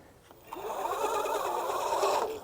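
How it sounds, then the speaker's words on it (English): The tires of a Fifth Wheel V40 Pro electric scooter spin freely, producing a steady whirring motor and tire hum that starts abruptly and holds close and moderately loud, with no talking. "if you spin the tires, I don't know if you can hear that and see that."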